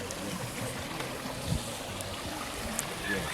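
Mountain spring water flowing down an old plantation aqueduct into a small kiddie pool in Jamaica, a steady outdoor rush and trickle with a few soft splashes, low-level and continuous.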